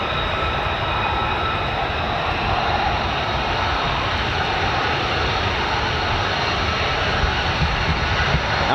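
F-35 fighter jet engine roaring at high power during acceleration, a broad, steady, loud rumbling roar sustained without break.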